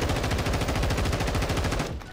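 Sustained rapid automatic gunfire from a Bryson 800 fitted with fireworks tracers in Warzone DMZ, a dense continuous burst of loud shots that cuts off near the end, with no voices.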